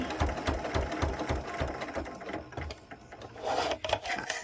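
A sewing machine stitching binding onto a quilt, with a steady, rapid mechanical rhythm of needle strokes, close and clear, slowing briefly near the end with some handling rustle and no talking.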